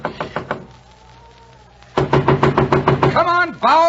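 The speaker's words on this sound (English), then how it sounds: "Come on, Bauer, open up the door." Knocking on a wooden door, a quick run of sharp knocks, a pause, then a longer loud series of raps, followed by a high whining or creaking voice-like sound, in an old radio drama.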